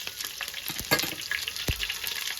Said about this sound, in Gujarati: તલ ફૂટી ગઈ છે તો હવે એમ નાખી દઈએ લીલા મરચા.